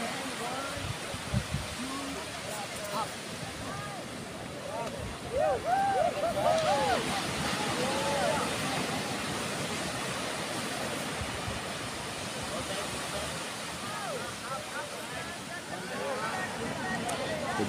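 Small waves wash steadily onto Selong Belanak beach in Lombok, a continuous soft surf hiss heard under someone talking close by.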